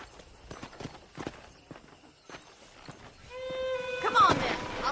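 Horse hooves clop at a walk in the Red Dead Redemption video game, a soft irregular series of light thuds under ambient sound, with a louder tonal swell near the end.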